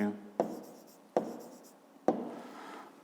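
A pen strikes paper three times as figures are written down for a fifth-grade maths exercise, each sharp tap trailing into a brief scratching stroke, close and quiet.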